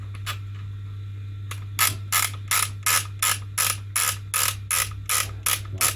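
A ratchet clicks in even, repeated bursts while the hop unit is tightened on a KWC CO2 airsoft Uzi, starting after a short pause and running loud and close over a low steady hum.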